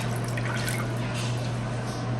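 Warm water poured from a container onto the soil of an organic home garden seed kit, a steady soft trickle and splash running continuously over a low steady hum.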